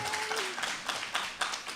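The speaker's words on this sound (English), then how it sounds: "Clap her." Brief crowd applause at a university Patois debate event, a short burst of scattered clapping with a faint voice briefly audible underneath.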